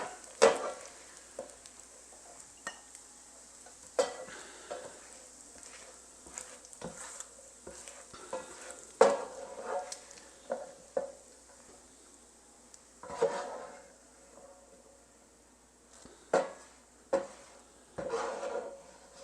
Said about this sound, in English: we just want to take this bacon out of the fry pan and let it cool down